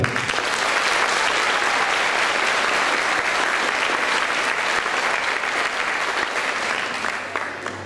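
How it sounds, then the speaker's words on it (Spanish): A preschool graduation audience claps loudly and continuously in a warm, dense wash of applause that thins and fades near the end, leaving a low hum. "Juntos brindemos un caluroso aplauso para los príncipes y las princesas de esta tarde."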